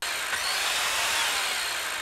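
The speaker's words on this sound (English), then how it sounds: "Are we about to drill into him?" A power drill whirs in a scene from the TV series The Boys, a steady, loud, unbroken grinding hum heard alone for a couple of seconds.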